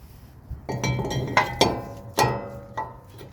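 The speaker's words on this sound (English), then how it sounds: "We'll go ahead and put our new rotor on." New brake rotor fitted onto the front hub of a Toyota Tacoma: a few sharp metallic clinks and taps, close and moderately loud, spaced irregularly over a few seconds.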